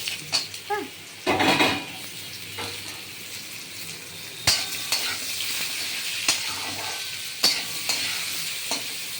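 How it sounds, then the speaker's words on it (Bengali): Mango pieces frying in a pan for achar sizzle steadily while a metal spatula scrapes and clinks against the pan in scattered strokes, close up, with no talk. "আমটা একটু ভেজে নেব"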